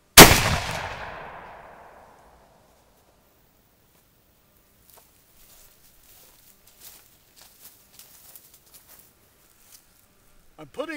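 A Nepalese Brunswick rifle fires a big game load in a single loud, close shot with a long fading tail, then quiet with faint handling clicks and a brief voice at the end.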